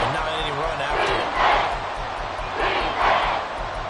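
A roaring Arrowhead stadium crowd in a Madden football game surges twice in loud waves of cheering over a steady background din, with a commentator's voice mixed in.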